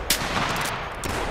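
A loud gunshot from the hunting video game The Hunter Classic cracks at the start, followed by a short rumbling tail over steady background noise.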